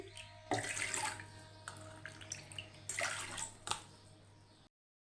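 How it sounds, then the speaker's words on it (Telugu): Water is poured into a pressure cooker in close, gushing bursts with splashy pauses between them, ending in silence. "వీటిని కుక్కర్లో వేసుకొని 2 కప్పుల నీళ్లు పోసి"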